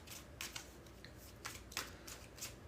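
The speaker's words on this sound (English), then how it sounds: "We're going to do 3 shuffles in less than a minute." Playing cards being shuffled, quiet close-up bursts of flicking, riffling card noise in several short clusters with brief pauses between, no voices over them.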